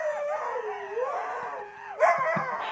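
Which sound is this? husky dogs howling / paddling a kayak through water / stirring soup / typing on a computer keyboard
husky dogs howling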